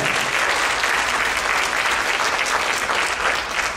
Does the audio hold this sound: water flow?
no